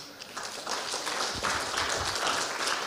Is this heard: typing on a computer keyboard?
no